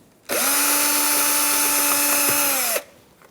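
A Phillips bit spins out a door panel screw on a 2007-2017 Ford Expedition. The motor gives a loud, steady whine for about two and a half seconds, then stops abruptly.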